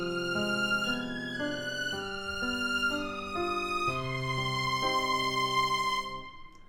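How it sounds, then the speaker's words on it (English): A spooky melody played on violin, sustained bowed notes moving stepwise in a steady rhythm with rich harmonics, clear and close, alone without talk, ending after about six seconds. "same notes and rhythms, but on a violin instead."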